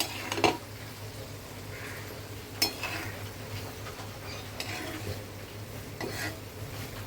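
Onion paste is stirred in a cooking pot with blood clams, giving soft, wet scraping and a few clanks of a spoon against the pot over a low background hum. No one speaks.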